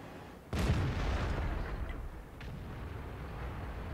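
A single deep tank cannon blast in a tank battle video game, a sudden loud boom with a long rumbling tail and a fainter second report shortly after.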